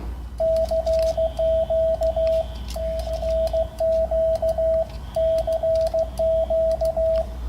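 Amateur radio CQ call sent as a steady train of Morse tone beeps, dots and dashes in repeated groups, loud and clear over a low hum, with no talking.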